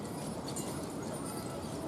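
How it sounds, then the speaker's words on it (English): Horses clip-clopping as they pull a carriage with passengers around a pond at a historic village, faint, dull hoof beats in broad outdoor noise. "So here comes the horses."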